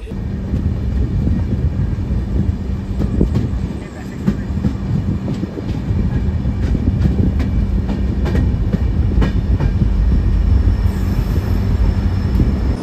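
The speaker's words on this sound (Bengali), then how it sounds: "এই মুহূর্তে আমাদের ট্রেন এসে পৌঁছলো পাঠানকোট ক্যান্টে।" Passenger train on the Pathankot Cantonment route toward Jammu Tawi, a continuous loud rumble of wheels on rails with faint rhythmic clacks throughout, steady and close, no talking.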